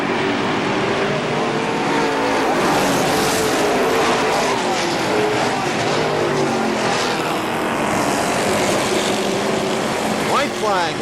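Race cars roaring around the KilKare Speedway oval during the final laps of a race, a continuous loud engine drone under a track announcer's voice.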